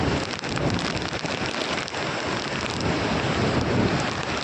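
A small waterfall with plenty of reddish water on a village trek in Maharashtra, heard as a steady, dense rushing wash of falling water, loud and close, with no voices.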